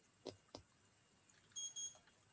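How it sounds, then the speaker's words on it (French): Switch on a Michelangelo prosthetic hand pressed, giving two short clicks followed by a faint high double beep, quiet and close in a still room. "Quand j'appuie dessus, ça fait un petit bip."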